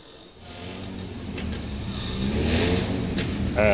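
A Rolls-Royce Cullinan engine revs, a low rumble that swells steadily louder and closer over a few seconds, heard alone without voices.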